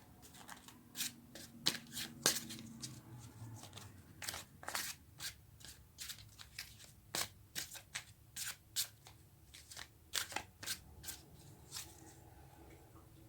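A deck of tarot cards being shuffled by hand, with a quiet run of crisp riffling and slapping bursts in an uneven rhythm, close and fairly soft, with no talk.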